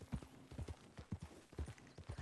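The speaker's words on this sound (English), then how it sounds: "it's a person on a horse" Horse hooves clip-clop in a steady walking rhythm in the Red Dead Redemption 2 online game, clear and moderately close with a faint whinny-like tone.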